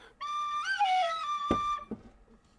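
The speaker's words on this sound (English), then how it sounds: "Yeah, you got it right. Tin whistle." A tin whistle plays a short, clear tune of sustained bright notes with a quick slide between pitches, followed by two sharp knocks or taps once the melody stops, in an otherwise quiet room.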